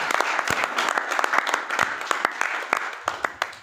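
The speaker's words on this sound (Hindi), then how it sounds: "बहुत ही जबरदस्त तालियां" Dense audience applause at a business event, honouring a managing director in the room: many hands clapping steadily and close for several seconds with no talk over it.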